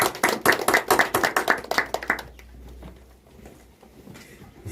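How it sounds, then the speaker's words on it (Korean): Worshippers at a Sunday church service clap, a quick series of sharp, fairly close claps for about two seconds that then stops, leaving a quiet room. "하나님께 영광의 박수를 올려드리겠습니다."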